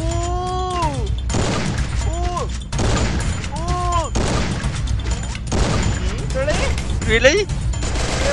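Gunfire rattles through a Free Fire ranked match in repeated bursts, loud and close over a steady game soundscape, while a player talks excitedly and gliding electronic effect tones sweep past.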